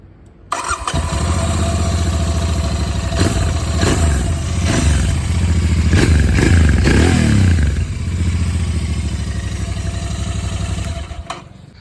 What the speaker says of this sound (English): let's listen to the exhaust note of the Interceptor after the second service.